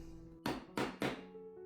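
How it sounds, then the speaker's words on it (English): Striking tool hammered to set metal hardware on a sewn bag, three sharp, loud close whacks in quick succession over a low steady hum. "we're gonna go ahead and give it a couple whacks and set it"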